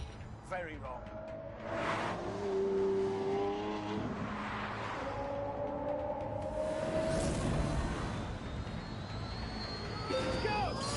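A hybrid supercar in The Grand Tour video game accelerates with a whining, rising engine note and gear shifts. The engine climbs and drops in pitch across several pulls, and a voice speaks over it at times.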